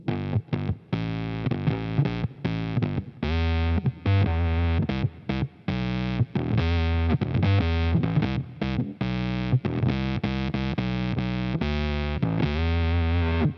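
Buzzy, synth-like square-wave bass notes from a Boss OC-5 octave pedal, played in short rhythmic bursts with brief gaps, full and close, no talking.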